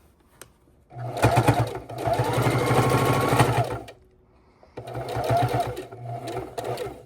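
A close sewing machine hums through two sustained runs of stitching down quilt binding toward a corner, the motor whirring loudly and steadily with a brief pause between runs.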